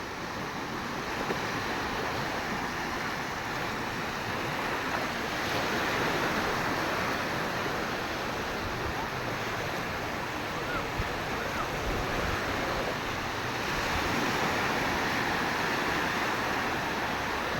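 Steady wash of sea waves breaking on a shore, continuous and fairly loud, with wind noise blending in throughout.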